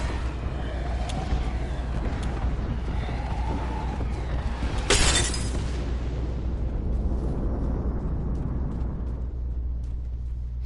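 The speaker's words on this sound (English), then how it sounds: "Calling the airstrike." A video game airstrike ultimate, a rumbling barrage of explosions under one sharp, bright blast near the middle, followed by a long lingering roar, loud and without talking.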